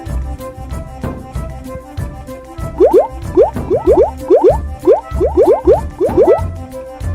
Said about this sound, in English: let's water our tiny seed.